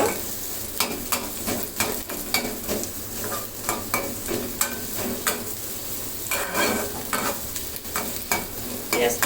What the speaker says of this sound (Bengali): দুটা মিডিয়াম সাইজের পেঁয়াজ কুচি করে রেখেছিলাম সেটা এখন দিয়ে পেঁয়াজটাকে একটু নেড়ে চেড়ে নিব